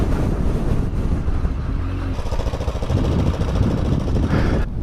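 A big-engined Yamaha FJ 1200 motorcycle fitted with a sidecar runs with a steady, loud close-up drone, with wind buffeting over it.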